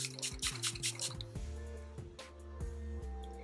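Water drips and splashes in a quick, irregular series of small drops, faint and close, with light handling sounds and a tonal hum running underneath.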